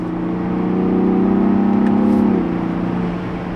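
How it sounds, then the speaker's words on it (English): A Ford Bronco Raptor's active exhaust revs up with a loud droning burble, holding a strong tone for a couple of seconds before dropping back to a steady idle. "I can't get over the stock exhaust."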